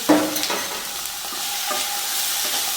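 Onions and shallots sauté over a medium flame in a pan for a Chengannur-style bone curry, giving a steady close sizzle with a few soft stirring scrapes near the start.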